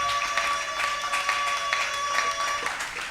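An audience at a church gathering applauds with continuous, moderately loud clapping that holds evenly for a few seconds, with a faint sustained tone underneath.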